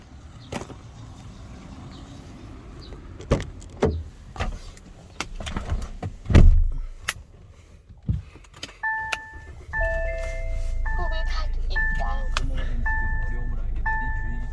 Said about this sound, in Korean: 시동을 걸었습니다